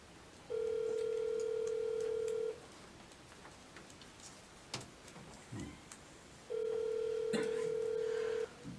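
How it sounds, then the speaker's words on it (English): A cell phone call during a council meeting: two long, steady ringback tones, a couple of seconds each, separated by a gap of faint room noise and small clicks. "Marcia, I'm calling your cell phone."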